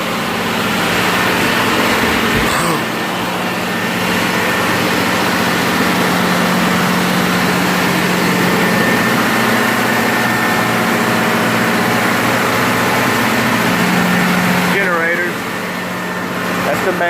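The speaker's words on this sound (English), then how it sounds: "Got a generator going." A generator and the main engines of a 2,000 horsepower tow boat run in the engine room, a loud steady drone with a low hum throughout, plus a brief knock early and a squealing tone near the end.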